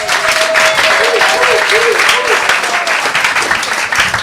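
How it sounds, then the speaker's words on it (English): An audience at an event about Bolivia claps warmly for a speaker, a loud, dense round of applause with a few cheers and voices mixed in throughout. "Please give a warm, big applause for Ann Ambia."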